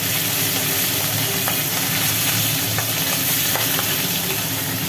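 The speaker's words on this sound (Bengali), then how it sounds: "তেল গরম হয়ে গেছে এইবার চারা রুই ভাজা হচ্ছে" Small rohu fish fry in hot oil in a wok, giving a loud, steady, close sizzle that runs without a break, with scattered crackles and pops and no voices.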